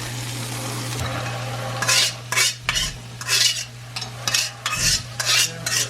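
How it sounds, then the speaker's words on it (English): Corn and cumin being stirred and sautéed in a pan, with a spoon scraping and clinking against the pan in irregular bursts over a steady low sizzle and a constant electrical hum. "I'm going to saute that around, or mix that in a little bit. And then I'm going to put in my corn"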